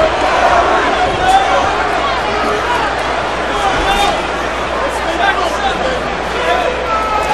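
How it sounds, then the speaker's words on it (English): Arena crowd at a boxing match between Zab Judah and Cory Spinks roars and cheers for the hometown fighter, a broad, sustained wash of noise with a commentator talking over it. "The crowd exhorting their hometown favorite, Cory Spinks."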